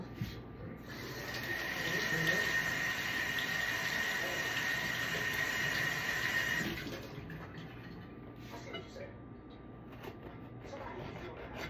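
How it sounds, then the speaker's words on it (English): Tap water runs steadily for about six seconds while a green pepper is rinsed under it in a kitchen, a close hissing stream that then cuts off, leaving faint quieter handling noises and no talking. "Next is the green pepper, but I'm gonna wash it off."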